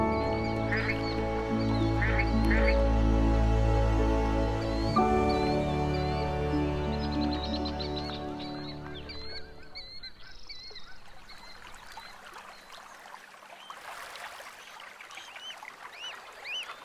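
Wild geese on an unfrozen lake in a quiet valley along the Yellow River, honking and calling repeatedly, at first over a loud low drone that later fades, with the calls continuing against a quieter background.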